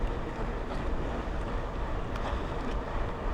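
Wind roaring over the microphone while riding a Lectric XPedition e-bike on the road into a headwind, a loud continuous buffeting rush with low gusty rumble throughout.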